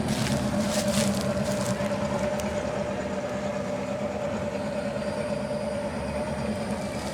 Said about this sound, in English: But you can hear the boats going by.